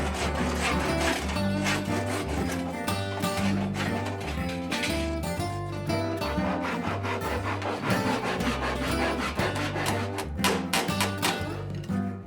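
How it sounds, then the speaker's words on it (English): A Japanese handsaw cuts through vertical wooden face frame sections with a steady back-and-forth rasping rhythm. The sawing plays under continuous background music. "I can now cut away the vertical face frame sections using a Japanese handsaw"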